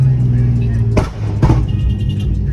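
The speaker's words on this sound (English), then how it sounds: "we're gonna see what people's reactions are to my loud pops on my car" A car modified with a GK Tech angle kit lets out two quick, sharp exhaust pops close by over a steady engine drone, with a voice speaking alongside.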